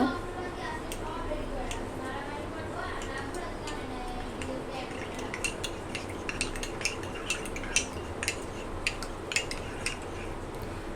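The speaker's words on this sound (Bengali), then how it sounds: "এক এক কাপ ঠান্ডা দুধ আর এক চামচ কাস্টার্ড পাউডার ভালোভাবে মিশিয়ে নিব" Cold milk being stirred with custard powder, a series of quick metallic spoon clinks and taps against the container, growing busier toward the end, over a steady low background hum and kitchen noise.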